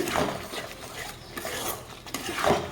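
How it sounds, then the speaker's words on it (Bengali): A spoon scrapes and stirs paneer frying with spices in a pan, with a few rhythmic strokes and rubbing sounds up close over a faint background sizzle. "মশলার সাথে আমি ভালোভাবে কষিয়ে নেব"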